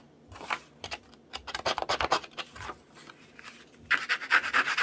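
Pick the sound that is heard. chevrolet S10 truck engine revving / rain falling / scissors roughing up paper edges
scissors roughing up paper edges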